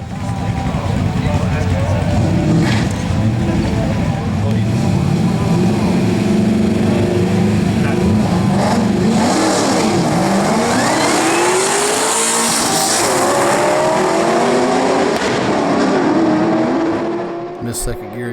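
A Ford Shelby GT500 at a drag strip races a Ram Air Trans Am, the engine roaring loudly and continuously under full acceleration, rising through the gears with a shift partway through and tire noise.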